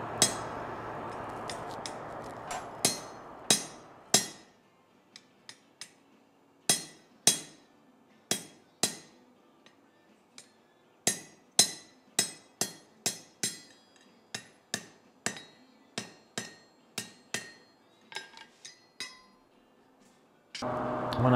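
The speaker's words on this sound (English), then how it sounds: "when we bring it out of the heat next time, we're going to put a fuller in it" A blacksmith hammers a fuller into hot steel, some twenty ringing metal strikes at a steady working pace with short pauses, close by, following a brief stretch of fire roar.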